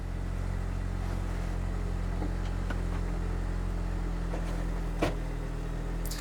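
A convertible car's roof retracts with a steady, continuous low mechanical hum that holds level throughout, close by, with one brief click near the end. The car also has a broken handbrake.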